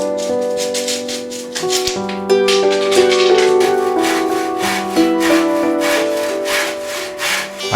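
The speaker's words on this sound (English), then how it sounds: "I cut up all the timbers to 2 meters" Wooden timbers for a catamaran mast are being cut by hand, with a steady back-and-forth saw rasp in continuous strokes, close and loud, the blade ringing faintly throughout.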